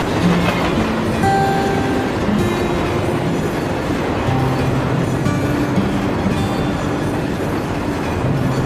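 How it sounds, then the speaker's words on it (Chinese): A train rolls past loudly and close by, its wheels clattering in a steady clickety-clack with faint metallic squeals drifting over the continuous rumble. "火车来啦！"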